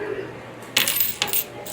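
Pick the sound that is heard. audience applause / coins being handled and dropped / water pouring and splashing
coins being handled and dropped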